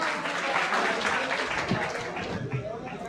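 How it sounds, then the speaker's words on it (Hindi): Mushaira audience in a celebration hall applauding as the poet comes to the mic, a dense steady wash of clapping for about three seconds, with speech-like murmur mixed in. "बुलंद तरीन ज़ोरदार तालियों से उनका इस्तकबाल करें।"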